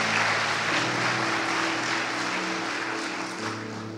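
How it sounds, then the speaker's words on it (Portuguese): Church congregation applauding during a sermon, a steady broadband patter of many hands held at an even level over low sustained tones, likely a keyboard or organ pad, easing slightly toward the end. "Pode dar um aplauso ao Senhor"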